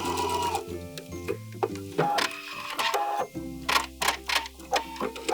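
A sewing machine runs a long seam on an infinity scarf, its needle clattering in quick rhythmic bursts with short stops between runs, close and clear with no talking.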